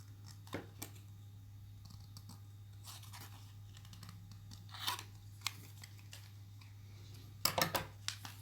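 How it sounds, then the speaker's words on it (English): Fine precision scissors snip a small plastic mouth grill part from a 1/12 scale Bandai General Grievous model kit, giving a few sharp, close clicks and crunches spaced across quiet moments with a steady low hum underneath. "So I'm just going to cut this out with these fine precision scissors."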